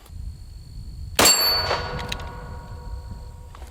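A Glock pistol shot rings out against a steel target, giving one sharp, loud clang with a metallic ring that fades out over a couple of seconds above a low background rumble.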